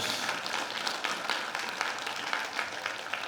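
Audience applause at a corporate lecture on AI held at NH NongHyup Bank, a steady, dense wash of many hands clapping at moderate distance, sustained evenly throughout with no voices on top.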